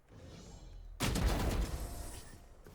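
Pistol gunfire in the tactical shooter game Valorant, a loud burst of shots opening suddenly after a quiet stretch and then ringing out, with game ambience continuing underneath.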